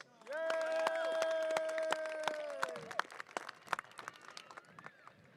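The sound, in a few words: round of applause at graduation ceremony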